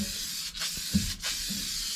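Aerosol dye sprayed onto a classic car interior, short hissing bursts from the can broken by brief pauses, close and fairly soft.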